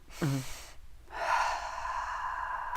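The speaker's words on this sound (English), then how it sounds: "We inhale through our nose and then we release through our diaphragm." Deep belly pranayama breathing during a breathing exercise: a short sharp inhale through the nose, a pause, then a long steady airy exhale from the diaphragm, close to the microphone.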